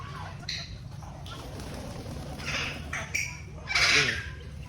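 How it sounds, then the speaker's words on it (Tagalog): Assorted birds at a small farm zoo giving loud squawks and cries in several bursts, heard close by over steady background noise, with people talking faintly. "Iba't ibang uri ng ibon ay narito."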